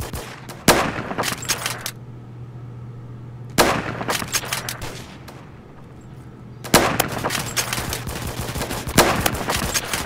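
Sniper rifle gunfire in a video game shooter rings out in three loud clusters of sharp, rapid shots, separated by short quieter stretches under a steady low hum.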